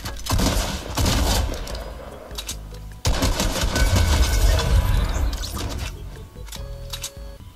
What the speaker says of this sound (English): Someone's trying to shoot from me somewhere.